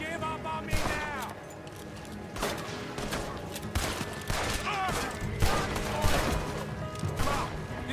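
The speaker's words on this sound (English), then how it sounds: "Keep shooting!" Gunfire in the Western video game Red Dead Redemption 2, with repeated loud shots and a fusillade-like barrage bursting every second or so, mixed with crashes and game noise across the whole stretch.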